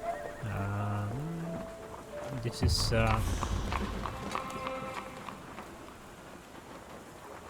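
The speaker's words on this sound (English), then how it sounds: "Here we have another horse." Horse hooves clip-clop on a street in a Sherlock Holmes video game, with faint rhythmic hoofbeats running under a voice and a brief louder clatter partway through.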